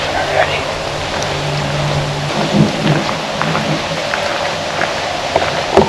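Thunderstorm with heavy rain in the Kentucky woods: steady rain noise throughout, with low rumbles of thunder rolling underneath and a few louder bursts near the end.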